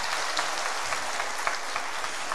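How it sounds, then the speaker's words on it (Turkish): An audience at a live Turkish folk music show claps in a steady, dense round of applause that carries on evenly without voices, moderately loud. "Bir alkıştır duyabilir miyim?"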